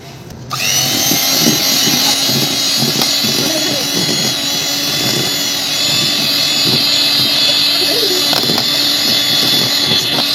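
An electric hand mixer beating wet cake batter with melted chocolate in a home kitchen, a loud steady motor whine with rattling beaters that runs continuously from start to end, close up, with a voice speaking over it.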